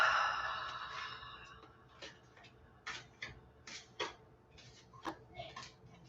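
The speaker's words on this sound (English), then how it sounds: "So I'm going to shuffle the cards now." Tarot cards are shuffled close by, a steady sequence of soft papery riffles and taps, with a brief louder rustle at the start and no talk over it.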